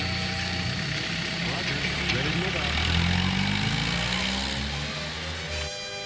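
A 1989 Boccardo 1200 Aero diesel motorcycle with a 4-into-1 exhaust runs with a low, tractor-like diesel chug, steady and moderately loud, under a voice narrating in French.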